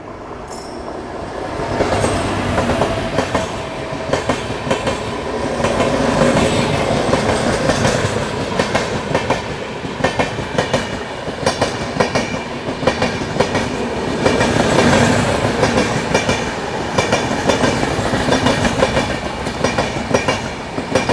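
The Indore to Kota Ranthambhore Express, a sleeper train, rolls along the rails with a loud continuous rumble, rhythmic clickety-clack of wheels over joints and occasional metallic squeals, heard from inside the coach.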